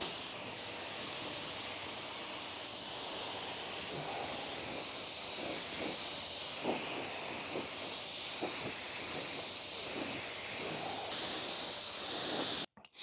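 A spray gun applies a light gold high metallic base coat to a bumper cover, a steady close airy hiss running for over ten seconds with faint pulsing as the gun passes, cutting off at the end.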